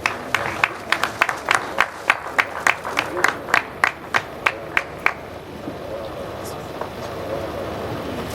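Audience at a Women of Quantity Surveyors chairperson investiture claps for an award recipient: sharp, sparse, evenly spaced claps, close and distinct at first, then trailing off into faint room murmur.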